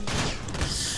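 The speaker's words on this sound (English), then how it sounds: "my teammate shot me again." A close, loud gunshot burst from a teammate in a shooter game, a single short blast with a rumbling tail, heard among other game noise.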